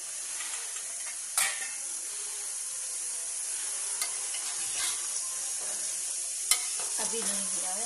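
Spice masala fries in a pan with a steady close sizzle and hiss, broken by a few sharp scrapes and clinks of stirring, with no talk.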